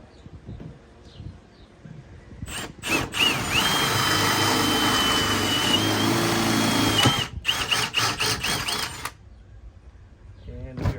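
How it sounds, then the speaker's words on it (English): A power drill whines steadily while boring a hole through a table, with short bursts of revving before and after the long continuous run and a faint voice at the start. "I want to drill a hole in my table"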